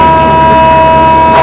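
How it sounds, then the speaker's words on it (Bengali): Train whistle at a Dhaka station as a Kolkata-bound train prepares to depart, a loud, steady sustained horn tone holding for over a second close by. "আপনারা শুনতে পাচ্ছেন ট্রেনের হুইসেল"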